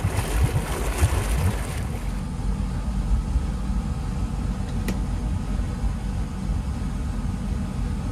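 A 2008 Campion 682 Sport boat's engine idles steadily and quietly at close range, a continuous low rumble with water and wind noise around it, a brief click midway, and no talking.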